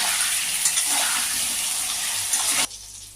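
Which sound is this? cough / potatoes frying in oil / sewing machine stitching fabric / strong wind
potatoes frying in oil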